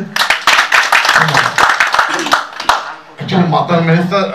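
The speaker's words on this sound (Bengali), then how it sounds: "আমরা কি পারি না যে সবাই মিলে একটা হাততালি দিতে?" Audience members clap at a discussion meeting, a burst of scattered, uneven handclaps for under three seconds, after which a voice begins talking.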